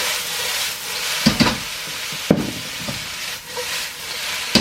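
Cooking wine splashes into a hot pan of salt and pepper calamari, hissing and sizzling steadily with several sharp crackling bursts as the pieces are tossed and stirred.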